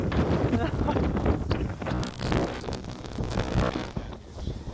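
Wind blowing outdoors at a ranch rock-formation garden, buffeting the microphone in loud, continuous gusts that rise and fall, with people speaking over the roar.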